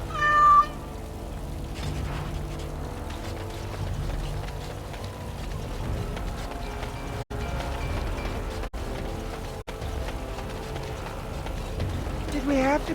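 A cat meows briefly at the start in the fantasy video game Dragon Age, followed by a long stretch of game ambience with rain-like patter and voices talking over it.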